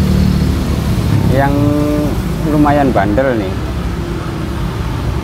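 A small remote control car engine runs steadily nearby while someone talks over it, its hum staying loud and constant throughout.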